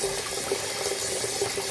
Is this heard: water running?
yes